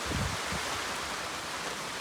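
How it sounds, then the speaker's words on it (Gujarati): Rain falls steadily on a farm field, making a dense, even hiss with a few low rumbles in the first half. It is moderately quiet and continuous, with no voices. "આ વરસાદ આવી ગયો છે"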